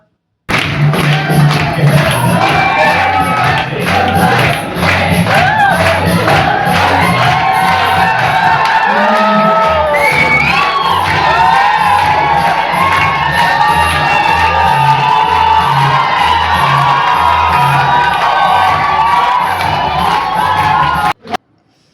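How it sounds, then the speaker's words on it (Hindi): Crowd at a Holi celebration at a nursing academy hooting, shouting and cheering loudly over thumping music with a heavy beat, a dense, continuous roar of voices lasting throughout. "सब लोग वहाँ पे इतना एंजॉय कर रहे थे, हूटिंग कर रहे थे"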